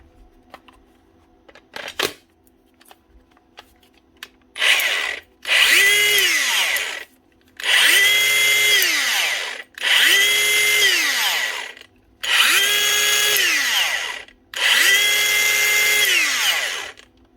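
A power tool being repaired, with something rubbing inside, runs in five separate bursts of a couple of seconds each. Each burst spins up with a whining, grinding tone and then drops away, with silent gaps between them.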